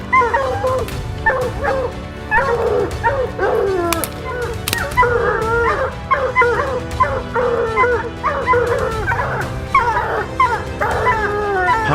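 Trained hunting dogs on a mountain lion hunt bark, yip and whimper repeatedly in an excited, overlapping chorus, loud and close, with a few sharp knocks mixed in.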